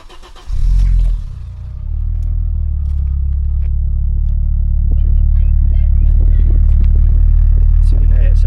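An Audi RS6 engine fires up and settles into a steady, low, subdued exhaust burble at idle, close and continuous, with a voice speaking briefly over it.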